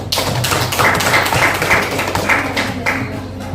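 A class applauds with brisk, close clapping from a group of students, loud and dense for a few seconds before it thins out.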